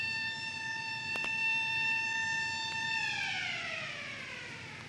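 Factory hooters and sirens in Ulster sound steady sustained tones that hold level, then slowly fall in pitch as they wind down, with faint background noise.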